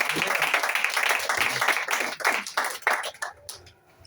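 An audience at a gathering breaks into dense, close clapping that holds for about three seconds and then thins out and fades, with a few voices underneath.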